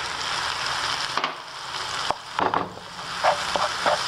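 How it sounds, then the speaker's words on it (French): Tomato and courgette sauté in a hot pan for courgette and mushroom lasagne, a steady close sizzle broken by several scraping stirs and light utensil knocks. "une fois que vous l'avez bien fait revenir, la petite tomate"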